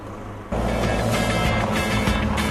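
Peugeot 207 CC convertible with a 1.6-liter diesel engine, a steady low engine drone that steps up in loudness after a quiet start and then holds a continuous even hum.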